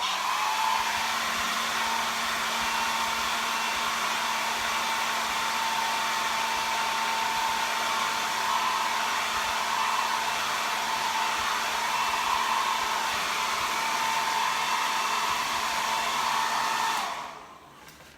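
A hair dryer runs steadily and close for a long stretch, a loud constant whooshing drone with a faint motor whine, drying fresh ink before switching off at the end.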